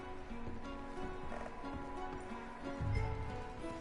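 Horses in a video game clop and shuffle faintly at a distance against a low, steady background ambience.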